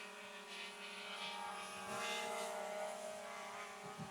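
Holystone HS175G drone's small propellers whirring as it takes off indoors, a steady high buzzing whine with slight rises in pitch, close and continuous, no talk.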